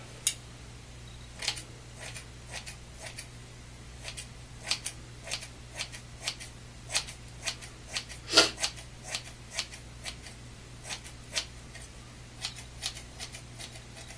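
Scissors snip hair in a steady series of crisp cuts, close to the ear with a slight metallic edge, repeating at an even pace over low background hum and no talking.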